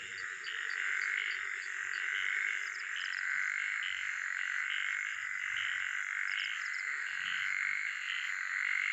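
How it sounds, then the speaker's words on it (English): Crickets and toads in an early-morning Ugandan setting with running streams, a dense, steady high insect trill layered over pulsing, repetitive croaks, continuous and moderately distant with no voices. "Sound of crickets and toads early in the morning."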